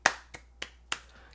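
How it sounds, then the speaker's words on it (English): Four sharp hand claps spaced evenly about a third of a second apart, crisp and close with quick decay between them. "The reason I'm giving this a clap"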